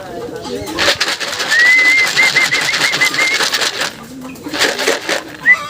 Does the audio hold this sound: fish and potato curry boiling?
no